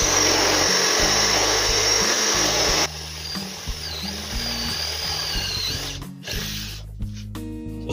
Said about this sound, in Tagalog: Umuusok siya, so kaya ng drill, mapurol lang yung bit.